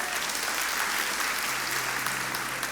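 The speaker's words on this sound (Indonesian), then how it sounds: "Kasih tepuk tangan untuk Tuhan" Applause from a church congregation, a dense sustained clapping of many hands that stays loud and steady throughout with no speech over it.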